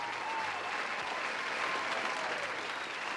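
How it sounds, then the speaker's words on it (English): Audience applause at a diversity and inclusion party, a steady, moderately distant patter of many hands clapping without pause for a few seconds. "A big applause also to every one of you."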